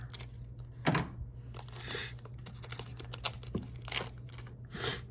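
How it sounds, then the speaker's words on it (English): Crinkling and rustling of plastic wrapping on sports card packs opened with scissors, with a few sharp tearing and snipping sounds in irregular bursts, close by and fairly quiet. "We use the scissors to open these and go from there."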